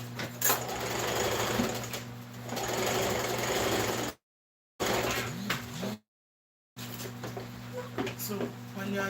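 A sewing machine stitches an Ankara fabric skirt with a steady mechanical hum and rapid needle rhythm. It runs in bursts separated by brief stops, and a voice talks over it.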